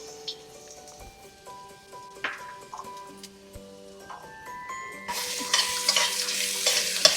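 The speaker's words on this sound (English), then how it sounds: "We're just going to saute for a moment so that the rawness of the ginger and garlic is gone." Cumin seeds and homemade ginger garlic paste sautéing in a pan, quiet light sizzling with occasional stirring clicks at first, then the frying swells into a louder, denser hiss toward the end.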